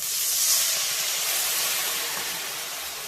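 Water poured into a hot pan with chili powder for an olive pickle, giving a loud, broad steaming hiss that fades slowly over a few seconds, with no one talking.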